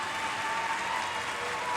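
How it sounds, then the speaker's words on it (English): A wrestling arena crowd applauds and cheers steadily, a dense, even wash of clapping with no talk over it. "Crowd really getting behind Evil Uno here"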